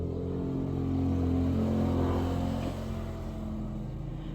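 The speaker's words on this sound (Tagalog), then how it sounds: "Daming mga motorsiklo na dumadaan guys." Motorcycles pass by on a Sunday morning road, a loud steady engine drone that swells and eases as the bikes ride past close by.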